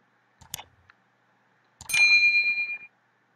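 A notification bell ding: a short click-like tap, then after a pause a bright, clear chime that rings out and fades over about a second, isolated in silence.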